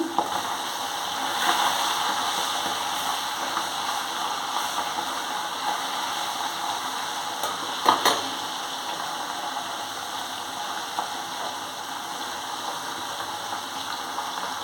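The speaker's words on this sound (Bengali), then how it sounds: "মাছটা ভাজা হয়ে গেছে" Fish frying in a pan of hot oil for a mustard-poppy seed dish, a steady close sizzle and crackle that holds throughout with one brief louder pop.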